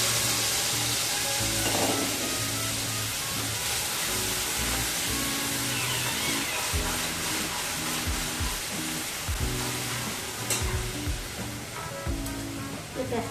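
Garlic, onion, ginger and chili paste sizzles and fries steadily in a pan for a fish egg curry, a loud continuous crackle with occasional stirring scrapes and no talk.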